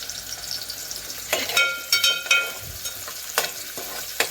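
Onion frying in a hot pan, a soft continuous sizzle marked by several sharp scraping strokes of a spoon against the pan, close and fairly loud, with no speech.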